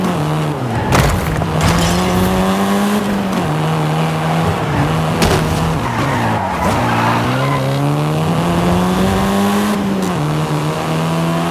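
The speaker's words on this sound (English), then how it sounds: "This version is the Volkswagen Golf R," A seventh-generation Volkswagen Golf R driven hard in Forza Horizon 5, its engine droning loud and close with repeated shifts and revs, punctuated by sharp tire squeals and skids.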